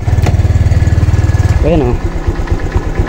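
A Honda Click 125 V3 scooter engine with a rough, misfiring idle, close and loud: a steady rapid pulsing idle for about a second and a half, then a short rev, then uneven chugging with a voice speaking briefly over it.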